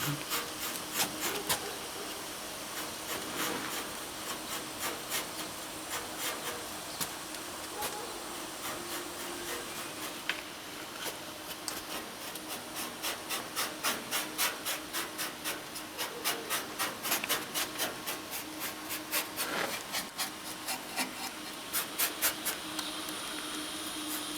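A VW T5 van roof is being cut open with a power tool, giving a steady close buzzing and rasping with rapid clicking rattles that intensify later, over a constant background hum.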